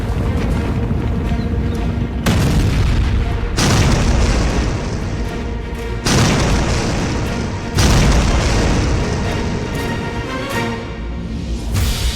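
Bomb explosion sound effect from a news report on French air strikes against ISIS in Syria: a series of loud, deep booming blasts in quick succession, each rolling into a rumbling roar, with no talk.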